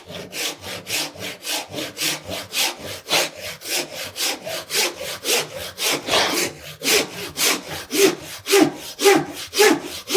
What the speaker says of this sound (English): Nice and slow when we're doing this, cutting first through the felt